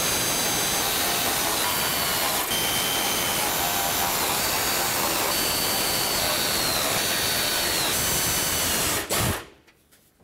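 A power tool drives and tightens 8mm bolts on a mounting brace, a loud, steady broadband whir running nearly continuously for about nine seconds before cutting off abruptly into quiet.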